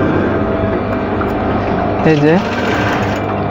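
A sewing machine stitching an apron whirs in a steady, close, continuous drone while a person speaks briefly over it.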